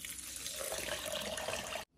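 Water poured into a blender for making rice milk, a steady splashing gush for nearly two seconds that cuts off abruptly, close and fairly quiet, no voices.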